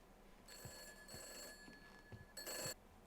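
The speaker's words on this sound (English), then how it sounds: "The phone's ringing." Telephone ringing in an abandoned hospital, faint, with two or three electronic ring bursts separated by pauses amid quiet room noise.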